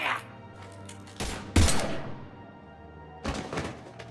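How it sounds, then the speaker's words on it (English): Gunfire in Mass Effect 3, a few sharp shots and thumps spaced apart over a murmur of in-game speech and ambience. "Now open fire!"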